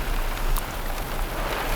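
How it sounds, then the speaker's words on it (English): Rain falls in the Utah desert, a steady hiss of drops spattering on nearby surfaces, with a few sharper close taps and a low rumbling wind underneath. "it started raining where I am"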